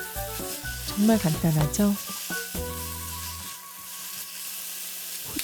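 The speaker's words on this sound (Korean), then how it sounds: "대파, 청양고추 넣고 함께 볶아주세요." Green onion and chili peppers stir-fry with oyster sauce in a hot pan, sizzling loudly. Stirring scrapes come in bursts, and a voice speaks briefly over the cooking.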